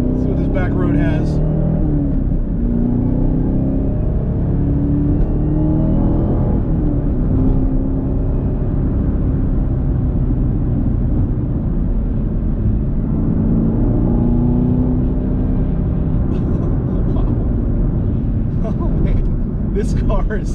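A 2021 Chevrolet Camaro ZL1 1LE on a back road gives a rough, throaty exhaust rumble that rises and falls as the car accelerates, continuous and close throughout.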